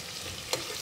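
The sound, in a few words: onions frying in a pan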